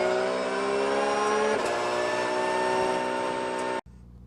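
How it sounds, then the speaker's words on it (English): A race car engine roars steadily at high revs, its pitch rising and falling slightly as the throttle is modulated through a corner, then cuts off abruptly near the end. "You can hear that I'm modulating the throttle as I come down into the middle of the carousel"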